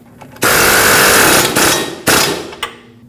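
Mounting nut on a Nissan Frontier 2WD steering knuckle run down with a power tool, loud close buzzing bursts, a long one and then two shorter ones with a brief sharp knock.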